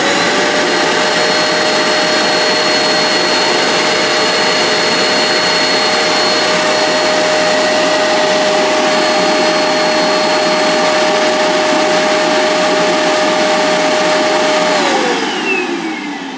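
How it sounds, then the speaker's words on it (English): A loud, steady mechanical whoosh of a bObsweep Dustin robot vacuum dock sucking out its dustbin, with a constant whine that drops in pitch as it winds down at the end. "what you just heard was the bObsweep Dustin vacuuming itself out."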